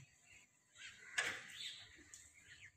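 Crows caw a few times in the quiet of an early morning in rural Punjab, faint and somewhat distant, with a soft scrape partway through.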